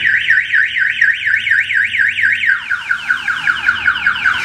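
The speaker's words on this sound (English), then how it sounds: "The alarm is going to fire off." A car alarm on a 1974 Dodge Challenger blares loudly and close, a fast warbling siren that switches partway through to a different sweeping pattern, with no voices over it.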